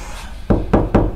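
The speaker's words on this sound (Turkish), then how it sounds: "Kapı mı çaldı?" Four firm knocks on a door, evenly spaced and loud, come after a brief quiet moment in a home.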